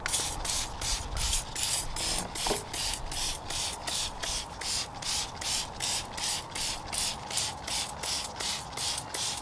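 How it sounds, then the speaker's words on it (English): Rapid repeated hissing bursts of a spray bottle spraying diluted car pre-wash cleaner onto a tyre, many quick squirts in a steady rhythm, close and fairly loud. "So I'm going to spray some Garage Therapy Zero 10 to 1."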